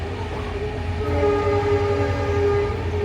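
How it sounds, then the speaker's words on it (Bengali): A train rumbles steadily into a station, loud and close, with a sustained low drone and a long tonal horn-like hum running throughout. "ট্রেনের শব্দ পাচ্ছ না বন্ধুরা ট্রেন ঢুকছে"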